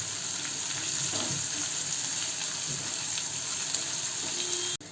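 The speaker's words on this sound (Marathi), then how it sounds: "त्यामध्ये टाकूया थोडासा लसूण आणि शिमला मिरची. सगळं परत परतून घेऊया." Garlic and bell pepper sizzle steadily in a hot pan while being stir-fried, a constant crackling hiss close by with occasional scraping and no talking.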